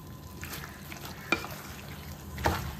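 Mutton pieces frying with salt in a pan for tamarind-leaf mutton curry, a steady low sizzle with a couple of sharp spatula scrapes and clinks, close by and with no talking.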